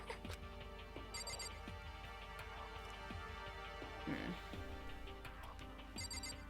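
A phone ringtone from the game Danganronpa: Trigger Happy Havoc sounds in two short, bright chiming bursts near the start and end, set over steady game background sound.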